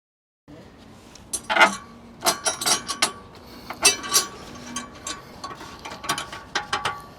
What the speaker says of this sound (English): All that's left is to put the screw and nut on.